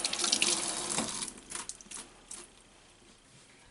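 Water running from a kitchen tap over hands being washed, a steady close hiss with splashing that is loudest at first, then tapers and thins toward the end.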